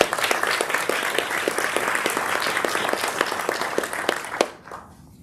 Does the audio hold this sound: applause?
yes